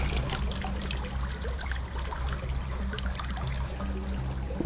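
Moving creek water trickling and pouring over a shallow streambed, a continuous close splashing burble holding an even level throughout, with a low steady hum underneath and no talking.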